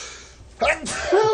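One short, loud sneeze bursts out during a radio talk show, followed right away by someone speaking.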